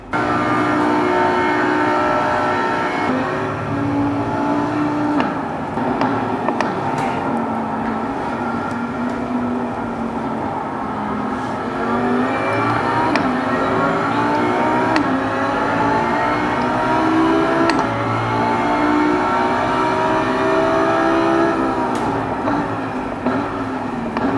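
A race car drives on a track during a race, its engine a loud, continuous close-up drone whose pitch climbs and falls as the revs change, with no voices.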